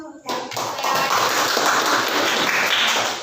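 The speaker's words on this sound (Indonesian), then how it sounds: "Tepuk tangan dulu untuk." Classroom audience applauding, a dense steady patter of clapping hands that swells in right away and holds loud and close throughout, with some voices mixed into the noise.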